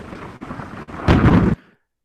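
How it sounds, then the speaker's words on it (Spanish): Thunder from lightning strikes: rough crackling rumbles broken by brief gaps, then a loud, deep booming burst before it cuts off into silence. "Ojo, aunque hay muchos rayos, el primer sonido corresponde al primer rayo."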